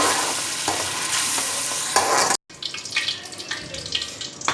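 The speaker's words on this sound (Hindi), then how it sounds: "तो मैं फ्राई करूंगी।" Oil sizzles in a pan with a steady hiss, then a brief silence before softer, uneven crackling and stirring sounds follow.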